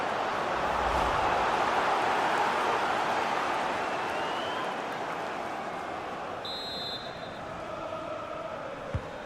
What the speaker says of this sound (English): Well, Derek, listen to that noise. The crowd can sense something.